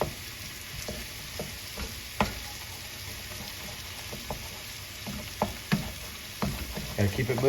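Two eggs scrambling in a hot pan during a chicken stir fry with pad Thai noodles, a steady soft sizzle with scattered knocks and scrapes of stirring; a voice talks faintly at times.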